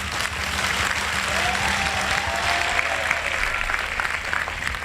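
Sustained audience applause at a spiritual discourse by a Hindu preacher, a dense, steady clapping that fills the whole stretch at close, even loudness with faint crowd murmur beneath.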